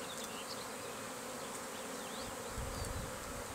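Bees buzz around an open drone hive at an Italian package bee producer, a steady, dense humming swarm with individual bees whining past nearby, fairly faint and continuous, with no talking.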